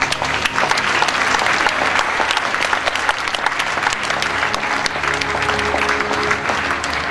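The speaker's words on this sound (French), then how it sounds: "je vous demande d'applaudir, s'il vous plaît" An audience claps steadily for festival staff, a dense, sustained round of applause from a large crowd filling the whole stretch at an even level.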